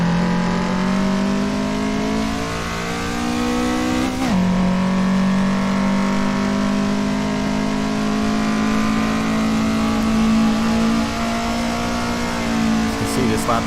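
A 1990s Japanese performance car laps the Nordschleife in the racing game Assetto Corsa, with a loud, sustained engine drone that shifts pitch briefly partway through and otherwise holds steady, heard from on board.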